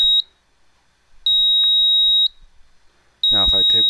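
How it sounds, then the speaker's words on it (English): A loud, piercing electronic buzzer, triggered when an Arduino laser tripwire beam is broken, sounds in long sustained bursts separated by short gaps, and a voice begins speaking over the final burst. "the buzzer will just keep going off"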